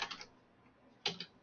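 Quick bursts of keystrokes on a computer keyboard as a search bar is filled in: a short cluster, a pause, then a second sharp cluster, close and fairly quiet.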